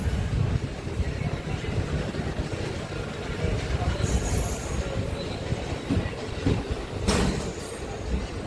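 A MEMU local train pulls out of Piduguralla railway station. Wheels squeal and carriages rumble continuously from inside, with a few sharp screeches and a voice talking faintly in the background.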